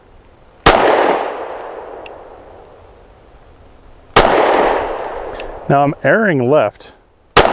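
Two sharp gunshots from an S&W M&P Shield Plus pistol firing Hornady Critical Defense Light ammunition, each with a ringing decay and spaced about three and a half seconds apart, followed by someone speaking.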